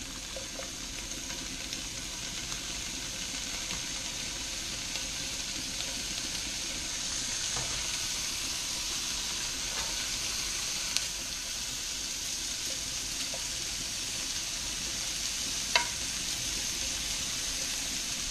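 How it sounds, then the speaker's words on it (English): Steady, broad crackling sizzle of pancetta rendering in a hot pan, continuous throughout with occasional small pops. "And it's hot. Hear that sizzle, sizzle,"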